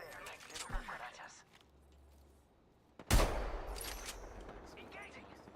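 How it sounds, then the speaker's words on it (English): Gunfire erupts in a shooter video game, with a sudden loud burst of rapid shots and noisy action after an earlier, quieter stretch, while a voice talks over the game sounds. "Engaging. Taking fire."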